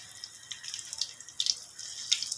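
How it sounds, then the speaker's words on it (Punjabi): Pointed gourd (parmal) stuffed with salt and chilli frying in hot oil over a low gas flame: a soft, steady sizzle with scattered sharp crackles and pops, close and alone. "ਹੁਣ ਆਪਾਂ ਇਹਨਾਂ ਨੂੰ ਫਰਾਈ ਕਰ ਲਾਂਗੇ"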